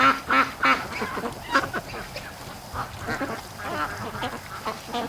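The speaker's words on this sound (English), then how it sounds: "There are lots of ducks down there." Ducks quacking at a swamp, with repeated loud quacks and honks in irregular bursts from several birds at close to middle distance.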